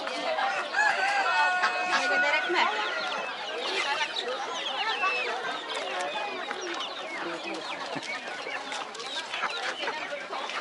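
Chickens cluck and roosters crow nonstop at a busy poultry market in Beruniy, a dense, close chorus of many birds with voices talking over the crowd throughout.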